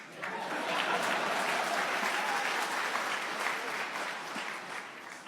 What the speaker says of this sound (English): yes, you can clap to ending it